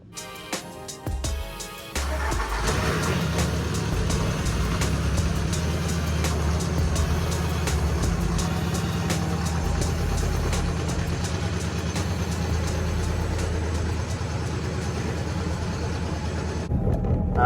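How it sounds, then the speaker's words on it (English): A loud diesel engine from a Volkswagen MK4 Jetta TDI runs on, starting with a few uneven knocks and then settling into a steady, heavy rumble for most of the stretch. "This car is extremely loud, so I don't know if this will even work out in the video"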